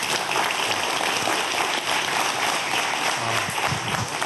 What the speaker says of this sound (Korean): 예, 여러분 큰 박수 한번 부탁드릴게요.